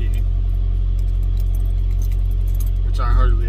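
Two sets of keys, a truck key and a padlock key on each ring, jangle briefly near the end over a steady hum inside a truck.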